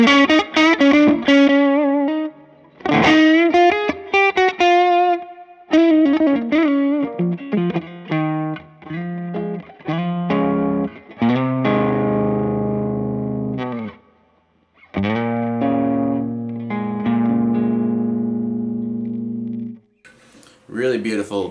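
An electric guitar through a Boss SD-1 overdrive pedal plays a run of notes and ringing chords with a warm, gritty overdriven tone, loud and up close, with brief pauses between phrases.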